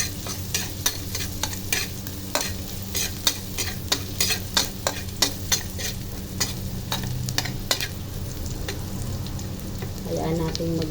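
Noodles are stirred and fried in a pan with a constant sizzle, and a spatula knocks and scrapes in an irregular rhythm, close and clear, with a voice briefly near the end.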